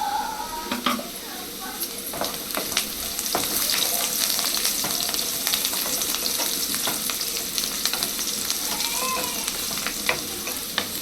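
Onions for chicken gravy frying in a pan, a continuous close sizzle broken by the scrape and clatter of a spoon stirring, with someone talking intermittently over it.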